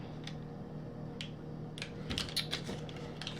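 A knife cuts a half cup of butter into pieces on a board in a home kitchen, producing a few sparse, light taps and clicks near the mic over a steady low background hum.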